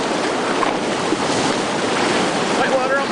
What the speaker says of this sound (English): White water on my tail.